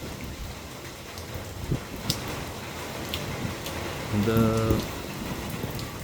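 Heavy rain pours on a farm near the backwaters of Gangapur Dam, Nashik, as a steady dense hiss with scattered louder drops, and a voice speaks briefly near the end.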